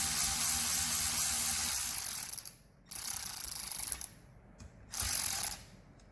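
Ratchet wrench running down an 8mm fastener on a MINI Cooper N12/N16 cylinder head, a close, loud continuous clicking whir in three bursts separated by short pauses.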